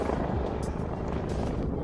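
Police helicopter flying overhead, a steady broadband rotor and engine roar that stays loud and constant throughout with no clear blade chop, and no talking.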